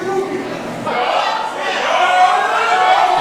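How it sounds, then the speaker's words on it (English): Houston wrestling crowd booing Fuego Del Sol: a dense, sustained wash of crowd noise that swells after the first second and stays loud beneath a commentator's voice. "It's unfamiliar to us to hear the Houston crowd boo Fuego"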